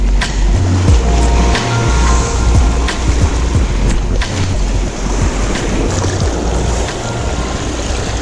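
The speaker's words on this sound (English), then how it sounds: "Ooh, there's a wave coming." An ocean wave builds and breaks in the surf during a striped bass fishing trip from a boat, a loud steady wash of water and wind noise rushing close to the microphone with no talk.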